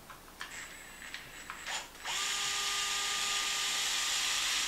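Power driver fitted with a 2.5 bit drives screws into a Traxxas Maxx RC truck's shock tower: a few short whirring bursts, then a loud steady motor whine held close up with no talking.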